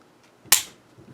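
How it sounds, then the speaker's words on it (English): One sharp, close mechanical click of a Beretta APX A1 Carry pistol trigger pull and reset snaps out against near silence, then quickly fades. "Listen to me pull this trigger."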